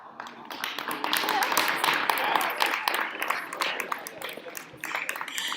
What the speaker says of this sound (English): I don't know why you guys are applauding me